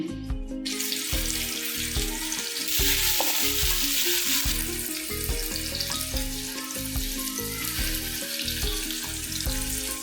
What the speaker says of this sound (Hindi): ये 1 कप हमने तेल लिया है और इसमें ये प्याज डाल रहे हैं। ये प्याज ब्राउन करेंगे हम।